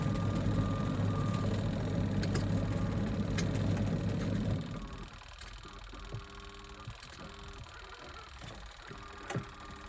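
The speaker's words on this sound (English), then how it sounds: "It sounds like the motor's on, but the capacitor's not working." Motor of a Good Ideas twin tub washing machine with a failed capacitor, a loud steady low hum that cuts off abruptly about halfway, leaving quiet room noise with faint ticks and clicks.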